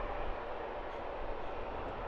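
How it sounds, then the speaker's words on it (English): An EasyJet Airbus A320-200 at Luton Airport gives a steady, continuous broadband engine roar, moderately distant and unbroken, with no talk over it. "Off to Paris for this EasyJet A320-200."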